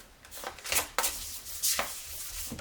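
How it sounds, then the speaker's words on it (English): Oracle cards being shuffled by hand in a series of quick, papery swishing bursts at an uneven rhythm, close and fairly clear, with nobody speaking. "I'm going to be shuffling on camera today"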